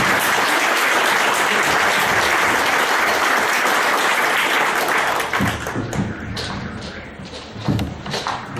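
Audience at a law lecture in Huancayo breaking into loud, sustained applause welcoming a speaker, thinning out into scattered individual claps toward the end.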